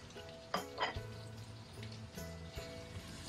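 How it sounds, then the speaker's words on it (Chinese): Chicken wing tips stir-fried in a wok with green and red pepper pieces and onion chunks, soft sizzling under a few scraping clacks of the spatula turning the food. "再翻炒几下，炒匀。"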